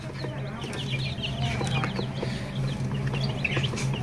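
Several layer chicks or hens clucking and chirping at a poultry farm selling layer, desi and Fayoumi chicks, a steady busy chorus of bird calls over a constant low hum.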